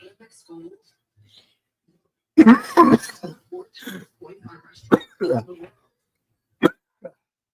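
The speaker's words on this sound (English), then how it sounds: "I'm getting hot from all this coughing." A woman coughs and clears her throat several times indoors in separate harsh bursts with short gaps between them, and she makes a few brief vocal sounds between the coughs.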